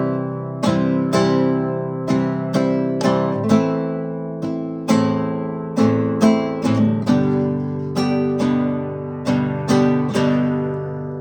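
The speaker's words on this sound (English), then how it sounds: "for our strum pattern in 4/4, we still do the eighth note strum pattern" An acoustic-sounding chord strummed in a steady eighth-note pattern in 4/4, with some strokes skipped so the even rhythm has gaps. Crisp attacks ring close and clear with no talking.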